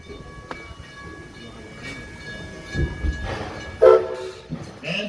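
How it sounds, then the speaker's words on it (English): A steam locomotive on the Greenfield Village Railroad gives a short whistle blast over the rumble and clatter of the moving train, with faint voices nearby. "And there's the whistle."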